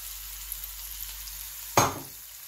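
Tomato paste hits a pan of frying masala with ghee, turmeric and salt, giving a sudden loud sizzling burst that quickly dies back into a low, steady frying hiss.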